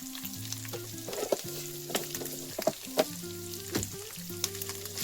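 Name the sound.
salted potatoes frying in a pan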